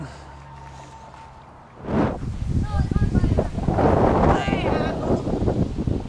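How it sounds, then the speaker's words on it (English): Strong outdoor wind buffets the microphone in heavy, rumbling gusts that swell and stay loud after a quieter opening, with a voice faintly audible beneath the roar. "The wind is blowing. I hope it doesn't blow the camera down."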